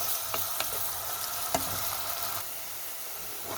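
Frying and stirring in a pan while cooking lentil noodles, a steady close sizzle with a few sharp clicks of a spoon against the pan.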